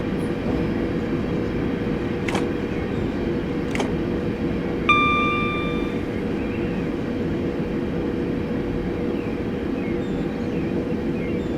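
A London Overground train runs along the North London Line near Highbury and Islington in Train Simulator 2018, a steady rumbling drone with a couple of sharp clicks and a brief electronic tone partway through.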